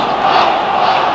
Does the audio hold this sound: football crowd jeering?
yes